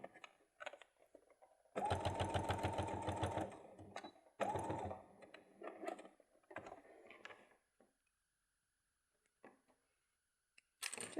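A sewing machine runs in short bursts over the thick seams of a bag, a close whirring hum broken by pauses and small clicks, then falls quiet.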